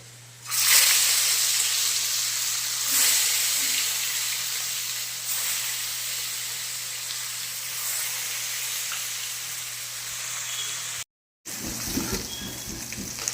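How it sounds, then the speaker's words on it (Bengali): Fish frying one by one in hot oil in a kadai gives a steady, close sizzle that runs nearly the whole way through, with a short break near the end before the crackle resumes. "কড়াতে তেল দিয়ে দিয়েছি, তেলটাও ভালো করে গরম হয়ে গিয়েছে। এবারে মাছগুলো দিয়ে এক একটা ভেজে দেবো।"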